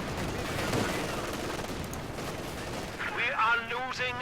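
BAR automatic rifle fire in Company of Heroes 2, a dense rattle of shots mixed with other battle noise, running steadily throughout with a brief whistling tone near the end.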